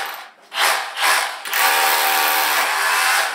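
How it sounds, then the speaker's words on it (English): A concrete drill bites into a wall to mark hole positions during a greenhouse trellis build, running loud and close in two short bursts before grinding on steadily. "using the concrete drill, and I'm just going to make some marks with it right now"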